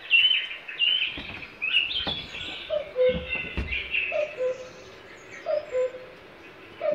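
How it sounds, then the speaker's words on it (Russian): Recorded birdsong, including a cuckoo-like call, plays from loudspeakers in Sparbach nature park, repeated two-note calls and chirps at moderate level over outdoor ambience, with brief handling thumps. "Кукушка какая-то."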